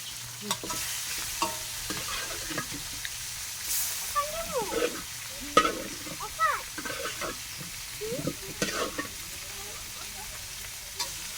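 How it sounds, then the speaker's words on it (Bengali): A large fish head fries lightly in hot oil for a mung dal curry, sizzling and spitting with scattered pops while someone talks over it. "হালকা একটু মাথাটা ভেজে নিলাম, ভাজলে একটু স্বাদটা অন্যরকম আসবে"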